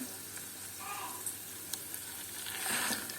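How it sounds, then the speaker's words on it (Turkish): Pepper paste and tomato paste sautéing with browned onions in hot oil for a Malatya-style kısır, giving a steady close sizzle with faint stirring scrapes throughout. "bunları yağda kokusu çıkana kadar kavuracağız"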